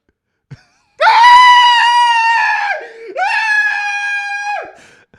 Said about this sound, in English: I know that blood-curdling scream.